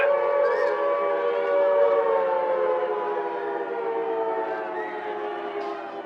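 Layered air raid sirens hold a long, steady, droning wail, loud and sustained without pause, slowly sinking a little in pitch.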